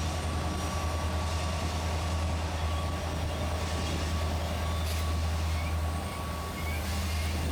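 A Conrail freight train of hopper cars with helper locomotives at Horseshoe Curve rumbles steadily, with a deep continuous low drone and wheel noise carrying throughout.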